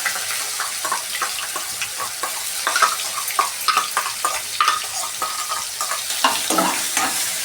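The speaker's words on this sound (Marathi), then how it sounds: "व हे सर्व चांगलं 2 मिनिटं परतून घ्यावे" Onion masala with cumin seeds, black pepper and cardamom sizzles in hot oil, a bright, continuous frying hiss broken by frequent stirring scrapes and clicks close by.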